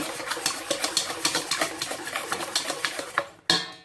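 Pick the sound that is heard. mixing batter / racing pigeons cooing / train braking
mixing batter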